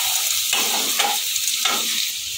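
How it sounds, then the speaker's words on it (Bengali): Chopped garlic stir-frying in a hot pan for chilli garlic prawn egg noodles, a loud, constant sizzle with a few scraping stirs of the spatula, close and without talk. "এবার কুচানো রসুনটা দিয়ে দেবো। এক মিনিট মতো নাড়বো।"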